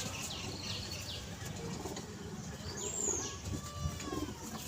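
Pigeons kept at a home loft, including a pair of young birds, give soft low coos with light fluttering and rustling, faint and close against a quiet background.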